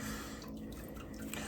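Water drips and trickles from a wet sponge onto leather western boots being soaked from a bucket, a soft, steady liquid patter close by with no talking.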